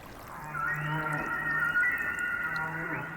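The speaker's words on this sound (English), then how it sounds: "If the way whales transmit their songs remains a mystery" A humpback whale sings underwater, drawn-out tonal moans with layered harmonics that rise and glide over several seconds above a quiet, hissy ocean background.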